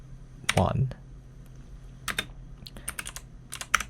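Keys clatter on a computer keyboard as a Linux mount command is typed, with quick irregular bursts of clicks after an initial louder tap.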